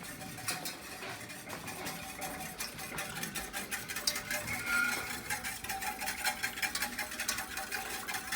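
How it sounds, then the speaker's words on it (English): Gravy with butter is whisked steadily in a pan over medium-high heat, giving a soft, continuous scraping and stirring patter that stays fairly quiet and even throughout. "it's that constant whisk motion that's going to thicken it up"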